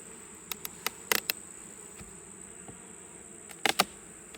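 Honeybees in a sparsely populated nuc hive, heard as a faint steady hum with a thin high tone, broken by a few brief sharp buzzes passing close, alone with no talk.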